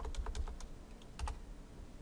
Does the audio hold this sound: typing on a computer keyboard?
yes